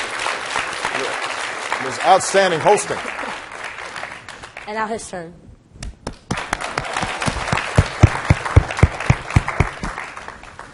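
Audience applause for a student host at a library event with the President breaks out after about six seconds, loud and sustained, following a stretch of speech and a brief pause.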